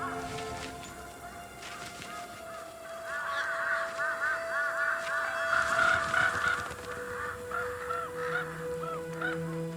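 Several crows caw and call in a noisy flurry, harsh repeated cries overlapping at middle distance over a steady outdoor background.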